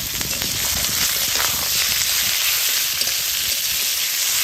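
Chicken mince sizzles steadily in a pan with cumin seeds, dry red chillies and ginger paste, a dense continuous hiss with scattered crackles, close and fairly loud without any voices.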